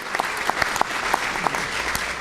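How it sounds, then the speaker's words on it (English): Audience applause at a speaking event, a short burst of steady clapping from a room full of people, fairly close and continuous. "Give her a round of applause."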